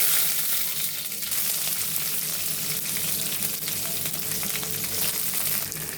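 Green chillies, garlic and red onion sizzle in hot oil with fenugreek, cumin and mustard seeds for a tempering, a steady, loud crackling fry that runs unbroken and close throughout.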